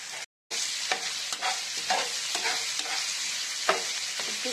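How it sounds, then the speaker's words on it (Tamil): Brinjal gravy seasoned with salt is stirred in a hot pan, with a continuous sizzle and repeated scraping strokes of the spoon, close up, after a brief silent gap at the start. "உப்பு சேர்த்துட்டு நல்லா கிளறி விட்டுறலாம்"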